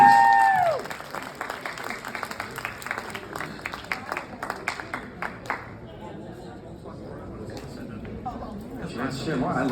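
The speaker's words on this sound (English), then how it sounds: "Can we give her a round of applause" An audience at an Oregon ghost conference claps in a dense burst that thins out after a few seconds, giving way to murmuring chatter and voices in the room.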